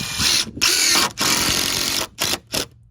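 A power drill drives a Cortex screw into a deck board in close, loud bursts of whirring, with a longer run followed by two short pulses and brief silences between.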